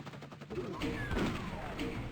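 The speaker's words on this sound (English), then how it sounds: "Stop shooting at me." Enemy gunfire in a video game on the level Map05, Fiendish City, played on UV-Max: a short cluster of sharp shots and blasts mixed into busy game noise, moderately loud, lasting about two seconds.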